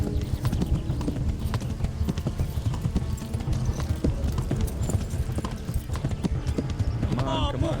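Horse hooves gallop in a steady, rapid clip-clop through the medieval game Kingdom Come: Deliverance, loud and continuous across the whole stretch with a brief whinny near the end.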